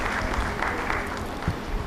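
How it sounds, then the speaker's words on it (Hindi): A seated audience at a community gathering gives applause for a blood donor, a moderate, slightly distant wash of clapping that stays steady and fairly soft throughout. "तो एक बार अंकित के लिए जोरदार ताली।"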